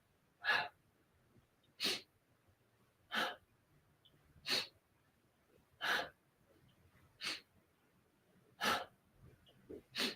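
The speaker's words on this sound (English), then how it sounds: "you might be able to hear my breathing" Sharp, forceful nasal exhalations from a yoga practitioner repeat about every second and a half, each a short breathy burst in a quiet room with near-silence between them.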